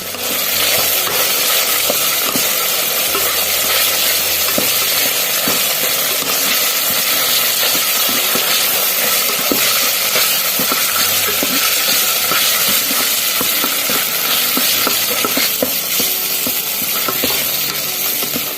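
Minced pork with holy basil stir-frying in an electric rice cooker, a steady close sizzle with repeated scraping and stirring strokes of a spatula running throughout.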